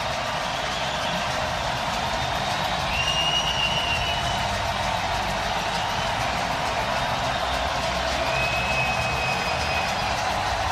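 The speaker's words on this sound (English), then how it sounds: "Crowd's back." NFL stadium crowd at the Rams at Saints NFC Championship game, giving a steady, dense roar of cheering that holds a constant loud level throughout, with faint whistles drifting over it.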